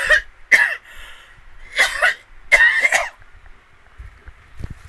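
A person coughs from fireworks smoke, giving several close, harsh coughs and throat clears in uneven bursts with short pauses between them.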